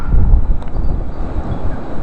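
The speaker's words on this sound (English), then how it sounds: "It's about 15 mile an hour wind gusts right now." Strong wind gusts during an Oklahoma blizzard buffet the microphone with a loud, steady low roar that swells and eases slightly over its length.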